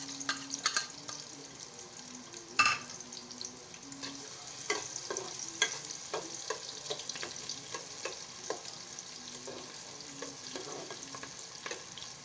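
Chopped onion, tomato, salt, cumin and turmeric fry in hot oil, a continuous close sizzle and crackle with scraping stirs and a sharp clatter early on, no talking.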